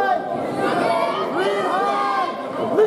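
A wild crowd of spectators in the stands at a high school boys basketball tournament game yells and cheers in a dense, continuous roar of many voices with shouts rising above it.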